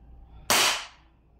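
A WE M1911 airsoft gas blowback pistol fires a single loud, sharp crack with a short decaying tail, heard alone at close range.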